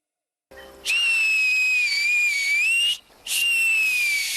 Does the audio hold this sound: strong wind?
no